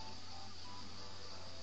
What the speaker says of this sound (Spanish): Asquerosas abejas, no quiero que me piquen.